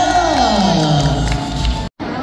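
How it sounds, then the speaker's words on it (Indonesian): Crowd cheering and whooping at a Puteri Indonesia 2023 reunion event, loud and continuous with voices shouting over it, cutting off abruptly near the end before resuming briefly. "berikan tepuk tangan yang meriah untuk Putri Indonesia"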